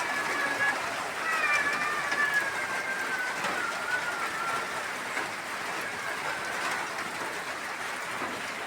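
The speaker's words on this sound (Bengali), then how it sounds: "দেখুন কত জোরে বৃষ্টি পড়তেছে।" Heavy rain pours steadily outdoors near a cooking fire during a sun-shower, a dense continuous hiss that holds the same level throughout, with faint thin whistling tones over it early on.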